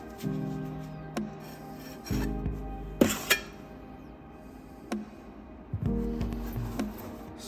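A squeegee spreads creamy urethane grout across the face of glass tile. The quiet scraping strokes come in short, uneven passes, with small taps in between.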